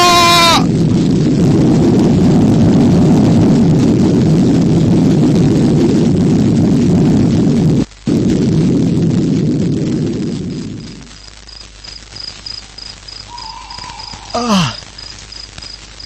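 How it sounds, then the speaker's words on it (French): A huge, sustained roaring rumble of an explosion fills the space, loud and dense for about ten seconds before fading away, then a few faint high tones and a brief chirp in the quiet that follows. "Une explosion."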